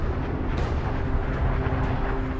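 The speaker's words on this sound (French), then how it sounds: "Les couches extérieures sont expulsées en une explosion cataclysmique." Supernova explosion sound effect, a continuous loud rumbling roar with dense low-end texture that holds steady throughout, no voices.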